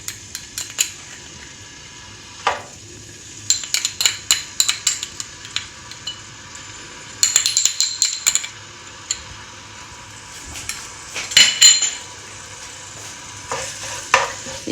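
Ginger garlic paste is stirred in a pan, with a spoon scraping and clinking against the metal in irregular bursts over a soft background sizzle.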